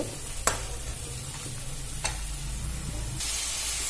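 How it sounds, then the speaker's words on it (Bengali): Potato and egg curry frying in a pan, a steady close sizzle with a few sharp scrapes of a spoon stirring, and the hiss swelling louder near the end. "আবারও ভালো করে নাড়াচাড়া করে ভেজে নেব"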